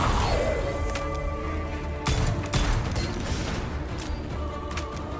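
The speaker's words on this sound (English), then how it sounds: "A grenade now" Grenade explosion in the dark fantasy shooter Witchfire, a heavy burst at the two-second mark within dense, noisy combat clatter and rumble, loud and close.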